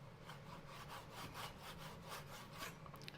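A knife cuts through thick-cut bacon with a steady back-and-forth rasping, about eight to ten strokes in a quick regular rhythm. The sound is close but quiet, with no talk.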